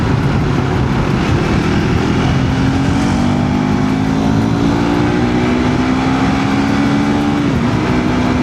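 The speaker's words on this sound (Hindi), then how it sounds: "जब मैं हाई रेफ पे बाइक को चला रहा हूँ तो ऑडियो कैसी आती है।" A KTM 390 Adventure motorcycle ridden at high revs, its engine roaring loud and steady with rising and falling pitch beneath heavy wind rush, close and continuous throughout.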